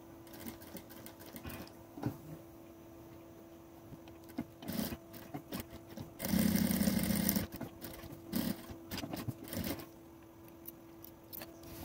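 A sewing machine stitches the tip of a half-moon fabric pouch in short, quiet bursts, then runs in one louder, longer stretch before stopping and starting again briefly.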